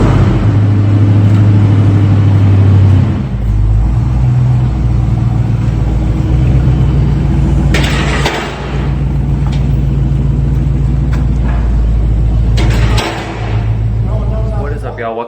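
Foxbody Ford Mustang with a new 3-inch exhaust, the engine idling with a loud, steady low rumble and brief revs, close to the car while people talk over it.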